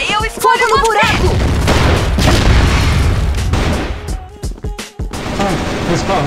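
Boom of a grenade blast in the CrossFire shooter during a ranked bomb match, a broad loud burst amid ongoing gunfire and game noise, with a player talking over it.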